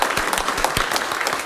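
An audience applauds at the close of a live concert in a synagogue, Adath Israel Congregation, with dense, close clapping that keeps going steadily through the whole moment.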